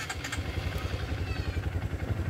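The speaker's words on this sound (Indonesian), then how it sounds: "Ini mesin sedang posisi hidup." A Honda CRF 150 motorcycle engine runs just after being started, idling with an even, rapid low thumping pulse and light mechanical clatter at moderate distance.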